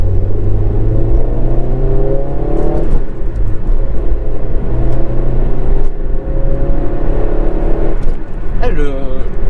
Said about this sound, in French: C'est incroyable le bruit du moteur, on l'entend super bien.